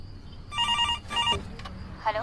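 A telephone rings in two short electronic trill bursts, fairly loud and close, followed by a brief rustle and faint voice.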